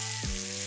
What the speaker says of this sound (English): let's just give that a little bit of a toss and get some of the potatoes hitting the bottom of the pan